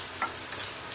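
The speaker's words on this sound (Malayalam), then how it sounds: "എന്നിട്ട് ഇത് നന്നായിട്ടൊന്ന് മിക്സ് ചെയ്ത് കൊടുക്കുക." Cooked rice being stirred and mixed in a pan with the flame off, a soft scraping and rustling with a faint sizzle, close and quiet, with no talking.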